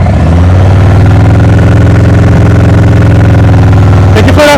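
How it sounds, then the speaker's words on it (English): A motorcycle engine runs loud and steady at high revs during slow-speed riding practice, a constant droning whine that rises briefly near the end. "Make sure you get those revs nice and high."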